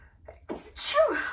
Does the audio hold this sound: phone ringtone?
no